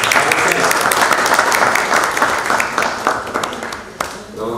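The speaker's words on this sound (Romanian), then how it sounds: "A fost aplaudat de două ori." Loud, close applause from the room at a county council meeting in Bacău, with many hands clapping steadily and then tapering off, with voices over it.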